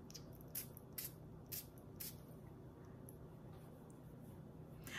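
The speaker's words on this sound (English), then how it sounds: "I'll spray fingers." Perfume fragrance sprayed onto fingers from an atomizer bottle, several short faint hissing puffs spaced about half a second apart over a quiet background.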